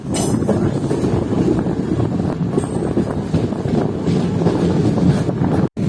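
Steady low rumble of a passenger train in motion on a journey toward a temple, filling the whole stretch without a break until a brief dropout near the end, with no clear talk over it.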